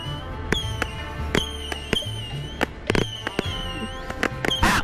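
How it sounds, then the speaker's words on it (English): Fireworks shot at a motorcycle rider: a rapid string of sharp crackling bangs and whistling bursts, close and loud, popping irregularly throughout. "You guys think it's funny to shoot fucking fireworks at me, huh?"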